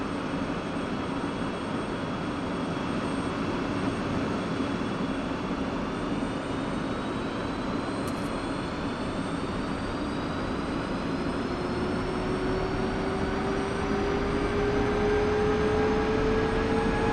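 Turbine aircraft engine in a flight simulator game, a steady broadband roar with a slowly rising whine as the spool settles toward idle, constant and unbroken with no voices.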